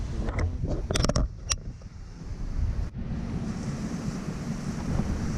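Ocean surf rolls in at South Beach, Miami, under steady wind buffeting the microphone, with a brief cluster of sharp knocks early on and no voices.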